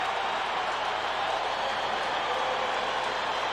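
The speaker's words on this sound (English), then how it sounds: "And then with the crowd in full throat, he has to take a timeout." A stadium crowd at an NFL football game in Denver roars steadily in full voice, a dense, constant wall of distant cheering and noise with no breaks.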